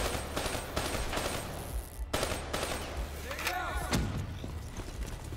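Repeated bursts of automatic gunfire in the shooter Call of Duty: Black Ops 3, moderately loud and rhythmic, with short pauses between bursts and a voice speaking during the shooting.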